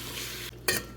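Guyanese stew chicken simmers and sizzles in a pot, a low steady bubbling hiss that drops out briefly before a sharp clink and scrape of a spoon against the pot, close and quiet.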